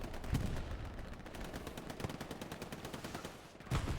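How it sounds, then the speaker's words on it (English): A strafing run in Hell Let Loose, set in Hürtgen Forest, sounds as rapid machine-gun fire with dense, rhythmic bursts of shots, fairly faint and distant, and no voices. "Strafing run, possibly."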